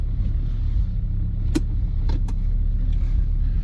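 Peugeot 205 GTi 1.9 petrol hatchback idling steadily just after a start, a close low rumble throughout with a couple of brief clicks and knocks from the car.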